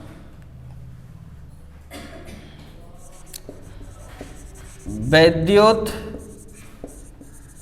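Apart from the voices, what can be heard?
writing on a board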